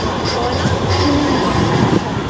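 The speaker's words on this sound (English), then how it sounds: "the tram's going out" A tram departs Piccadilly Gardens, rumbling and rolling away with a steady low drone and faint wheel squeal, a continuous mechanical noise without speech.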